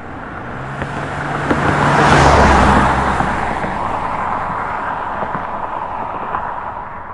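A car approaches, swells to a broad roaring peak as it passes nearby, then fades away on the road, captured outdoors on a handheld shotgun microphone.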